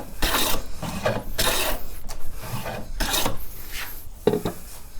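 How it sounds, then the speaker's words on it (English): A hand plane shaves wood down to a line on a board for a paper towel holder, making about five rhythmic, raspy strokes close by with short pauses between them. "We're planed down to our line"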